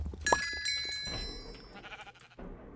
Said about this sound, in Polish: Dobra, pozbierajmy sobie może owce, co?